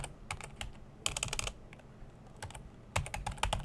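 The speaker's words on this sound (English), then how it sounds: "Gotta get used to the weird keyboard." Typing on a Commodore 64 keyboard, close-up bursts of quick clicky keystrokes in uneven clusters separated by short pauses, loud and crisp with no talking.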